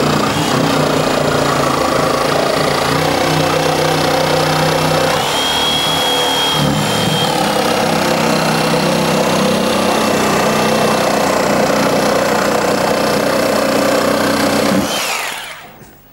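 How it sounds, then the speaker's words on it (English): A jigsaw cuts timber for a foam fiberglass jig, a steady loud motorised buzz and rasp running continuously for about fifteen seconds before cutting off abruptly, with no talking over it. "when you're using a jigsaw such as this, never insert the blade with the saw running"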